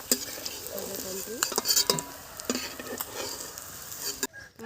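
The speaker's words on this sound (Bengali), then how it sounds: "মাছ ভাজা হয়ে গেছে, এবারে আমি আলুগুলোকে ভেজে তুলে নেব।" Pieces of shol (snakehead) fish frying in a pan, with soft sizzling and several clinks and scrapes of a utensil against the pan, close by with no speech, briefly cutting off near the end.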